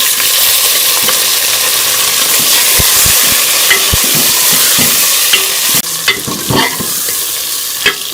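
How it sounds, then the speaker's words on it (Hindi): Loud continuous sizzling of chicken frying in a pan with onions, with occasional clicks and scrapes of stirring, close up and no talking. "इसमें हम चिकन डाल के फ्राई कर देंगे।"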